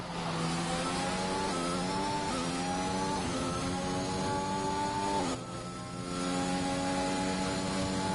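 A steady, high-revving F1 race car engine heard from onboard during a lap of the Australia track in a racing game, pitch rising through the gears with one brief dip for a shift.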